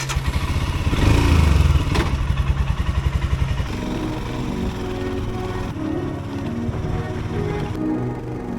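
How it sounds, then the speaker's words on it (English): A motorbike rides through the Victorian High Country, its engine droning loudly and steadily with a rough, throbbing pulse that eases into a lower, smoother hum partway through; nobody speaks. "Then it was back on the bike and time to head up."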